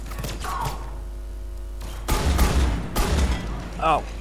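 Gunfire in the video game Mass Effect 3, a few heavy bursts of shots amid game sounds, with a voice speaking near the end.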